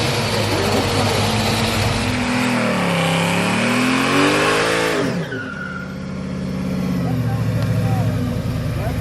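A supercharged 1955 Chevy Bel Air doing a burnout, its engine revving hard in rising and falling sweeps before cutting back to a lower, steady roar, loud and close.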